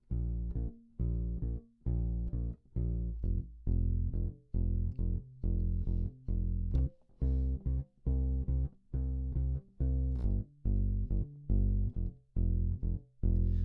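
An instrument plays the chorus of a song as a steady pattern of evenly spaced, equal-length eighth notes, with regular note attacks and short gaps throughout, loud and close with no talk.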